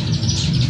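Green leafbird (cucak ijo) singing in a steady run of bright chirps and warbles with a constant low hum beneath it.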